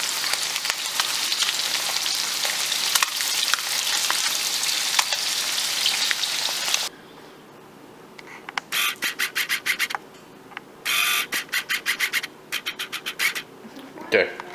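Fish sizzles and fries steadily in a hot pan, a dense hissing crackle for several seconds, followed by quieter intermittent bursts of rubbing and scraping.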